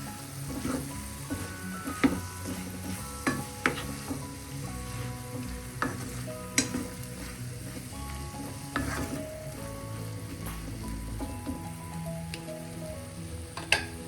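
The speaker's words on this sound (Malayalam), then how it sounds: "കൂൺ ചേർത്തെല്ലാം കൂടെ ഒന്ന് മിക്സ് ചെയ്യാം" Mushrooms stirred and sautéed in a pan for a mushroom gravy, giving a steady close sizzle broken by irregular scraping clacks of the spoon against the pan.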